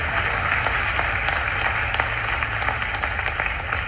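An audience at a ceremonial event in Bhopal claps steadily, a dense, sustained round of applause at moderate distance with no voices over it.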